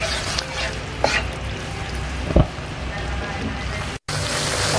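Spices, including cumin powder, being stirred in a hot frying pan for squid curry: a steady sizzle with occasional scraping strokes and clinks, close and fairly loud.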